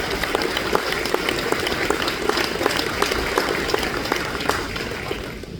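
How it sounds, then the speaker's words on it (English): An audience at the Knoxville Raceway drivers meeting for the Knoxville Nationals gives a sustained round of applause, a dense crackle of many hands clapping that holds steady and fades slightly at the end. "Give them a round of applause."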